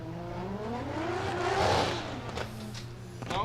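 Drift race cars fitted with stackable baffle silencers rev at Orange Show Speedway, a loud sustained engine drone rising and easing with rough exhaust crackle close by.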